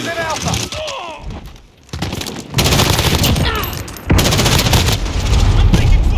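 Dense automatic and rapid gunfire from a Call of Duty Modern Warfare multiplayer firefight, loud and close with bursts overlapping, brief lulls between volleys and shouted callouts from players mixed in.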